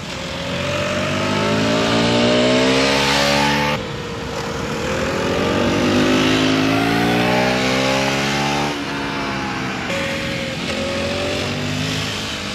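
An Aprilia Tuono motorcycle on the road revs and accelerates through several gear changes, the engine note climbing, dropping at each shift and climbing again, loud and close throughout.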